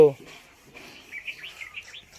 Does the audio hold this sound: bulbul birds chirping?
yes